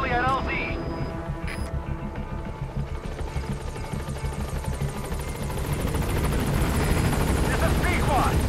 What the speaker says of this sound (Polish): Widać, helikopter leci.